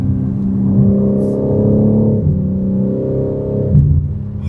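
A BMW G80 M3 with an AWE Switchpath exhaust revs close by, its deep throaty drone rising and falling in pitch through several blips of the throttle.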